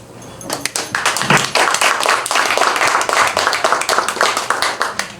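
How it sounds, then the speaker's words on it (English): Audience applause at a Gospel Sunday celebration honoring an honoree at a museum mansion: dense, loud clapping from a sizable crowd that starts after a brief quiet moment and continues steadily, with individual sharp claps standing out near the front. "But today, we applaud you."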